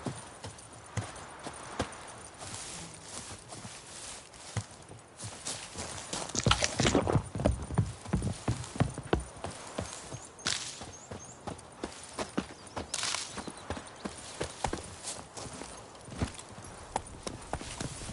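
Hooves of Geralt's horse Roach clip-clopping in The Witcher 3 video game, a steady rhythmic trot that grows louder midway and continues to the end, with no talking.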